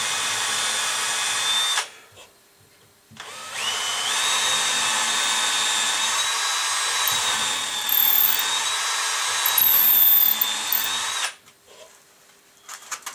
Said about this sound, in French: On est dans l'axe, on perce.